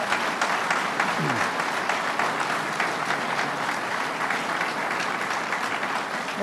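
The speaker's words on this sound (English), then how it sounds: "So now let's give everybody a big round of applause." A crowd gathered for a highway interchange project announcement applauds in a sustained, even wash of clapping that holds at a steady level throughout.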